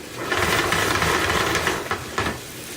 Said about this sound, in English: Gonna get a nice saute on these carrots